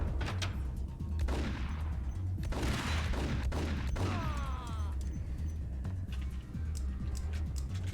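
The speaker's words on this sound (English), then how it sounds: "now you are shooting from upstairs" Video game gunfire from upstairs in Max Payne, as a steady stream of shots and impacts mixed into dense action noise, with whistling ricochet-like streaks in the middle.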